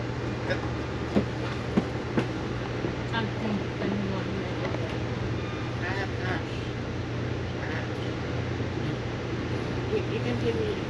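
An Amtrak Empire Service passenger train running on rails out of Manhattan, New York, toward Niagara, heard from inside as a steady low rumble with occasional clicks, with people talking in the background.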